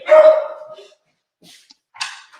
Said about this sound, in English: I'm just gonna open the door while you talk, but just so he stops barking